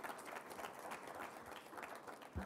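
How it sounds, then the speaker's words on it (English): Audience applause at an IIT Madras World IP Day celebration for a startup founder: a steady, moderately distant patter of many hands clapping that holds even for the whole span. "Can we have a big round of applause for that?"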